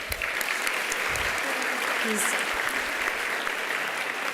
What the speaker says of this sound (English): give a big round of applause for Ronnie Davis.